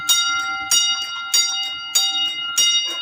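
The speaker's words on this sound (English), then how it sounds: "I'm going to run it with the bell right now. You'll hear how loud it is" Repeated strikes of an LED-equipped model railroad crossing bell, five evenly spaced clangs about every 0.6 seconds, loud, close and ringing alone.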